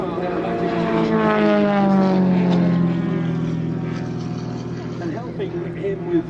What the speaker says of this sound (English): Mike Williams, who's controlling the model, is one of the best large-scale model pilots in the UK